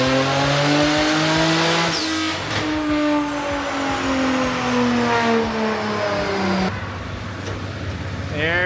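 A twin-turbo Genesis engine at 30 psi boost on a dyno, revving hard in a loud sustained climb through the gears, with a brief shift dip and a final pull before the revs drop.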